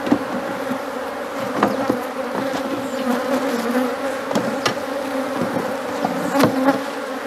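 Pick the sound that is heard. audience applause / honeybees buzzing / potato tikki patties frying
honeybees buzzing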